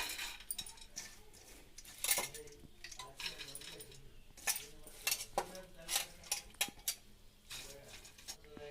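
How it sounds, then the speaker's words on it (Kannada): Sprouted horse gram tipped into a pressure cooker, giving light, irregular clattering and clinking bursts of pulses against metal, fairly quiet and close. "ಈಗ ಹುರುಳಿಕಾಳು ಹಾಕ್ತಾಯಿದ್ದೀನಿ ಕುಕ್ಕರಿಗೆ"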